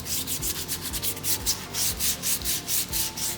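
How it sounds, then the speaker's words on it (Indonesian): Steady back-and-forth rubbing of sandpaper on a diesel engine part during a tune-up, close and rhythmic, with repeated strokes about every third of a second and no voices. "kita bisa bersihkan dengan menggunakan bahan amplas di sini."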